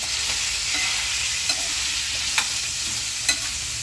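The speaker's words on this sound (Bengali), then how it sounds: "একটু বুঝে নাড়াতে হবে নাহলে আলুগুলো এদিক থেকে ওদিক উল্টে যেতে পারে" Potatoes frying in a frying pan are stirred with a utensil, giving a few light scraping knocks over a steady, close sizzle.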